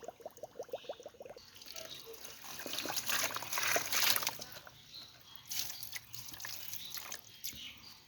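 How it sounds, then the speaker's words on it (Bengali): Water trickling, draining and bubbling out of a lotus pot during repotting, a gurgling, dribbling flow that rises and falls over several seconds, faint and close, with no talk. "জল তো বেরিয়ে যাচ্ছে মনে হয় না কি টকবক করছে কেন"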